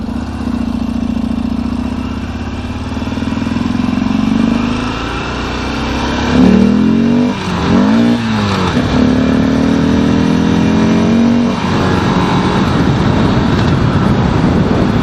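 Harley-Davidson XR1200 motorcycle engine on a test ride, a loud steady droning rumble that rises and falls through gear changes and revs, heard close up with constant wind noise and no talking.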